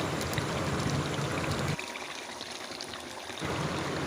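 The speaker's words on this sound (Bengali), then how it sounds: "এবার একটু জল দিয়ে দিলাম" Water poured into a pan of simmering chicken curry (chicken kosha) makes a steady, close rushing hiss, easing off midway and picking up again toward the end.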